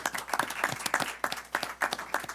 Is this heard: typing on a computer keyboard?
no